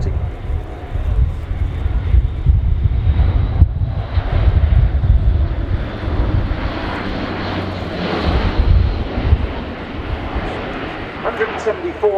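An Airbus A400M military transport aircraft performs a flying display at RIAT, a steady, loud turboprop engine roar rising and falling as it passes, with a commentator talking over it.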